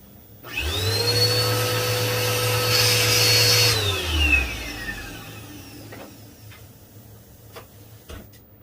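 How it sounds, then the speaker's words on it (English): A vacuum cleaner, powered through a Sol-Ark 12k inverter during a load test, starts with a loud rising whine, runs steadily for a few seconds, then spins down while faint ticking and clicks continue. "I'll turn the vacuum on one more time."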